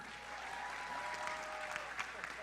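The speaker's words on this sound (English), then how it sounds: "Once again, give a round of applause." Audience applause for Team Malaysia's contestants at the Battle of the Brains quiz event in a hotel ballroom, a steady, fairly distant wash of clapping with a few sharper claps rising toward the end and a faint tonal hum underneath.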